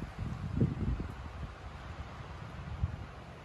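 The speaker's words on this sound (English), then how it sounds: "It's windy." Low, gusty wind rumbles against the microphone outdoors, strongest early, then easing into a steady soft whoosh.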